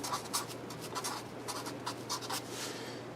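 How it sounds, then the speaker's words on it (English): A pen scratching out a measurement on paper during a 2001 Lexus IS300 front suspension job, quick close strokes and scribbles in short bursts, with no voice over them. "I'm going to go ahead and write that down"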